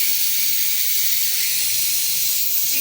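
Pressure cooker with lauki gosht venting steam, a steady loud hiss that holds unbroken throughout with no talk over it.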